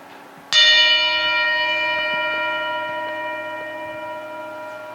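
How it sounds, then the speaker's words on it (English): A single bell strike rings out loud and clear during a motivational service, its sustained tones slowly fading over several seconds in a quiet room. "As usual, I want to ring a bell."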